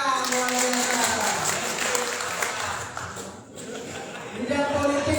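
Audience members at an AMPG DKI Jakarta plenary meeting applaud, a sustained burst of clapping from a crowd lasting several seconds with a brief dip before rising again, while voices murmur underneath.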